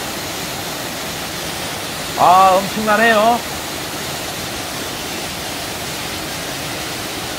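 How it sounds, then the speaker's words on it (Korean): Songchu Waterfall, a multi-tiered fall in Songchu Valley, roars as a loud, steady rush of water, with a man's brief exclamation over it. "마지막에 송추 폭포를 확인합니다."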